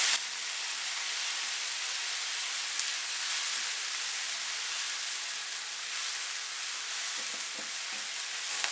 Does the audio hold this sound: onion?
yes